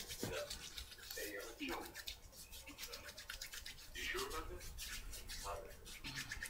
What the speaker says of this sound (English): Clean my hands, sanitize my hands again.